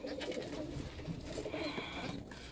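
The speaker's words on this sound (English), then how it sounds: "These are my 2 birds from Pancake." Breeding pigeons in a loft: soft, low cooing repeated in short bursts, close by, with faint background rustle and no speech.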